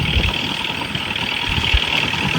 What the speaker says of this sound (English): tedding with a tractor,